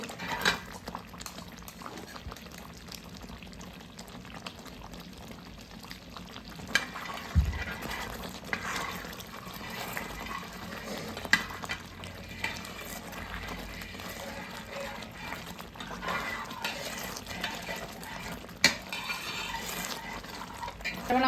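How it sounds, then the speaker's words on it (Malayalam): Aravana payasam with ghee being stirred in a pot for a Sabarimala offering, a steady low bubbling and scraping texture running continuously with a few brief knocks, fairly quiet and close. "നല്ലപോലെ ഇളക്കി കൊടുക്കണം. കുറച്ച് നെയ്യ് കൂടി ചേർത്ത് കൊടുക്കണം."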